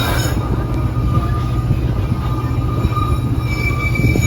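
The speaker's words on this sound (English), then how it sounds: "Listen to the squeaking of the wheels as the train bobs along." Continuous rumbling ride on the St Kitts Scenic Railway with faint high-pitched wheel squeals on the rails, steady and close, no talking.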